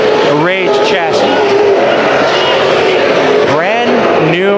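A brand-new race car on a Rage chassis roars past, its engine pitch sweeping up and down alongside tire squeals, loud and close while an announcer talks over it.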